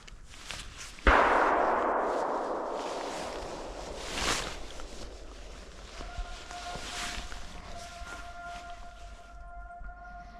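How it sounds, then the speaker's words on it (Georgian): A single sharp gunshot from a moose hunt in a forest cracks out nearby and rolls into a long fading echo. A fainter second report follows a few seconds later, and a steady tone hums toward the end. "ირაკლი მას ისროლა და ბაჩომაც"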